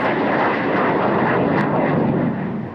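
A fixed-wing aircraft roars past loudly and close during an aerobatic demonstration display at a military flying competition, a steady broad engine rush holding for nearly three seconds before easing slightly.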